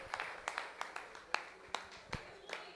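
A church congregation claps in a steady rhythm, about eight or nine distinct claps in under three seconds, moderately distant and fairly quiet.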